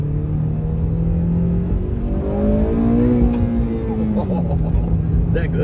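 A turbocharged Honda Civic's VTEC engine revs up close by, its droning tone climbing to a peak midway and then easing back to a steady idle, with voices faintly present.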